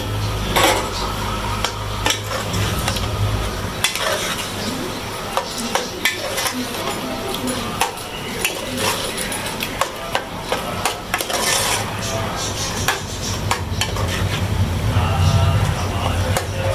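Boiled spinach stirred into fried minced beef in a cooking pot for keema palak, a steady scraping and clinking of a spoon against metal running throughout, close and fairly loud, with soft voices in the background.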